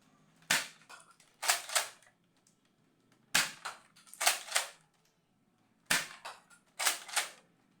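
Nerf Elite 2.0 Echo toy blaster firing foam darts, about 14 feet from the target: sharp, close snapping shots in clusters of two or three, with quiet gaps between bursts.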